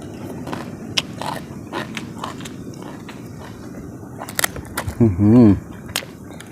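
Crunchy bites into roasted rat, eaten with spicy papaya salad outdoors, come as a few sharp, close crackles, followed by a brief burst of voice.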